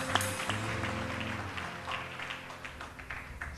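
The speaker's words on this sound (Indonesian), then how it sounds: "Berikan tepuk tangan." A worship-night congregation in a church claps together, a dense, sustained wash of many hands over music, steady and fairly loud throughout.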